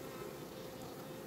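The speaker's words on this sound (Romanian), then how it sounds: "acea e albină hoață, asta e hoață." A faint, continuous buzzing of robber honey bees flying around, a steady low drone with no pauses.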